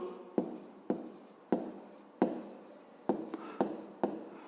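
A pen writes on paper during a fifth-grade maths exercise, giving a series of about eight sharp scratchy strokes, each starting with a tap and trailing off, close and clear in a quiet room.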